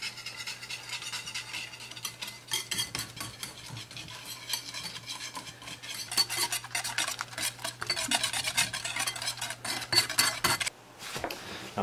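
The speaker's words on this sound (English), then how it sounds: "we'll go ahead and just whisk it for a few minutes just to get everything mixed up and nice and warm" A maple glaze made with homemade maple syrup is whisked in a pot, the wire whisk scraping and rattling rapidly and continuously close by for several seconds before stopping abruptly.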